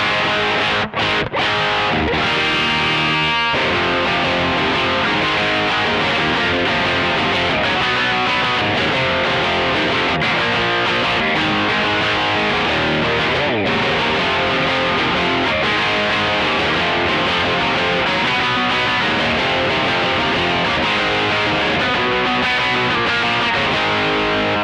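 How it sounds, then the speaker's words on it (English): A heavily distorted electric guitar through a Caline distortion pedal plays a continuous riff, thick and gritty, loud and steady throughout with no talking. "this is like your riffy distortion sound"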